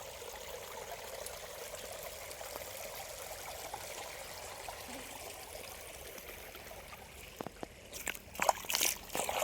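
Water streams steadily along a flooded farm path to a field, a soft continuous trickle and gurgle, with some brief clicks and splashes near the end.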